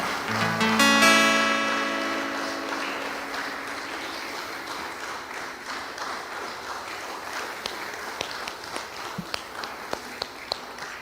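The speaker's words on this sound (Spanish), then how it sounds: "Dale un aplauso de gratitud a nuestro Señor." Applause and clapping from a church congregation, loudest at the start and then settling into a steady patter with scattered sharper claps.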